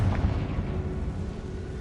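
Confringo explosion spell cast in Hogwarts Legacy, a loud booming burst at the start followed by a rumbling, decaying roar.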